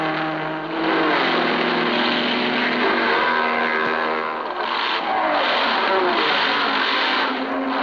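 Jaguar and Ferrari race cars duel at the Le Mans endurance race, a loud sustained engine roar whose pitch rises and falls as the cars sweep past, with no talking.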